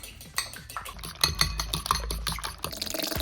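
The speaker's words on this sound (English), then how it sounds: "Just gonna, whisk that up with a fork." Fork clicking and scraping against a bowl while whisking eggs, a quick irregular series of light taps over a few seconds, fairly close and moderately quiet.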